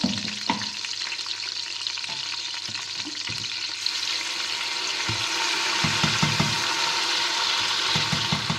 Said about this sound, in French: j'ai haché 2 oignons avec un navet et je vais venir les ajouter maintenant